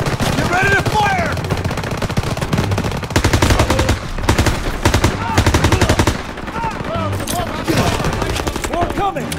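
Sustained gunfire from Call of Duty WW2, with rapid automatic bursts and repeated rifle shots cracking loudly throughout, layered with battlefield din and shouted voices in the background.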